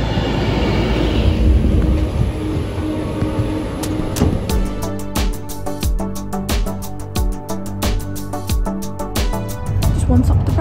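An Avanti West Coast train slows as it pulls into Preston station, its steady rumble joined by a run of sharp rhythmic clicks from wheels crossing rail joints. A voice speaks faintly underneath.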